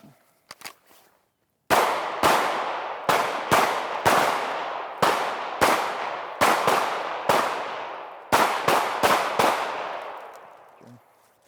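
Sharp, loud pistol shots ring out one after another in an irregular string during a shooting-while-moving drill, each crack decaying quickly, with brief pauses and a couple of quick doubles.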